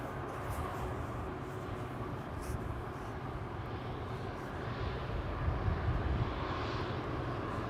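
Aircraft engines at Amsterdam Schiphol Airport give a steady, fairly faint roar with no break, as planes depart and arrive in the distance.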